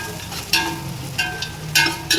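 Four onions sautéing in a pan for Chettinad biryani, a steady soft sizzle with intermittent stirring scrapes and clinks, close and alone without any talk.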